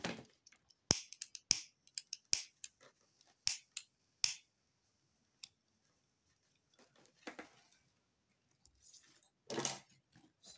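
Scissors snip yarn after a crochet piece is tied off: a series of sharp, quiet clicks and snips in quick irregular bursts, then a pause and a few soft rustles and cuts near the end.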